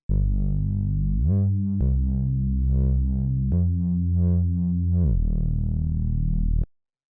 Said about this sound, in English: This is a really simple bass. It's just a reese bass.